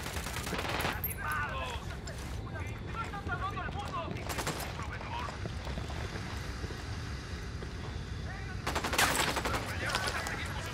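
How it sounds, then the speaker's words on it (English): Sustained automatic gunfire in Ghost Recon Wildlands, with dense bursts and a louder volley near the end over a steady rumbling game backdrop with wind and vehicle noise. "I'm opening fire on these shitheads"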